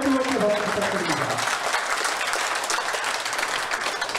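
Crowd applause at an elementary school alumni year-end party, with a voice trailing off at first before a full, even wash of many people clapping fills the rest.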